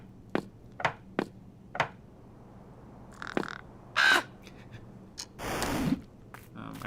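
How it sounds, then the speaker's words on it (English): Cartoon crows in the Tic-Tac-Crow video game make a string of short, sharp caws and squawks, spaced irregularly, with a couple of longer harsh croaks near the end. "when the birds land at tables, when they join a table, they kind of just they make their little noises"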